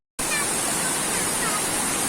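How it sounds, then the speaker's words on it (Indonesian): A small waterfall at Pucung cascades in a steady, dense rush of water that starts abruptly and stays loud and constant, with no talk. "Memang air terjun ini tidak begitu besar"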